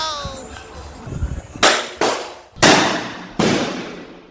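At an outdoor shooting range, a revolver and a shotgun fire four loud, sharp shots spaced about half a second to a second apart, each with a short echoing tail, after a few moments of quieter talk.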